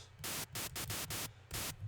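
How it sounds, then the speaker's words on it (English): White noise from a Serum synthesizer, sounding as bright hissing bursts that start and stop in a choppy rhythm of about seven short blasts over a low background hum. "we're going to get a white noise"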